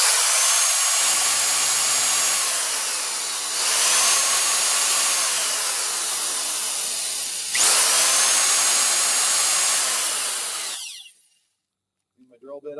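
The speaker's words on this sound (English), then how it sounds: "So I'm just going to gently drill some holes through here." A power drill whines steadily in three long bursts while drilling holes through a ski, each rising as it bites through, then cuts off to near silence.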